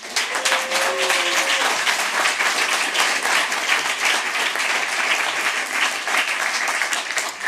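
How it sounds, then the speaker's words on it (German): A workshop audience at a closing event claps for the organising team: dense, continuous applause with crisp individual claps, steady and fairly close throughout, with a faint voice briefly underneath at the start. "Und ich finde noch mal einen großen Applaus für das Organisationsteam"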